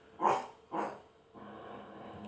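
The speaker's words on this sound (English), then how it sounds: "that's my dogs" Two loud, close dog barks ring out in quick succession inside a home, followed by a quieter, steady background rustle with no talking.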